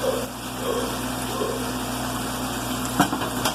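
A steady broadband sizzle of onions frying in oil, with a low hum underneath and a faint clink near the end.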